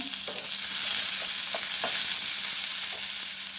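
Chopped onions fry in a pan with a dense, steady sizzle close by, and a few soft stirring scrapes rise above it.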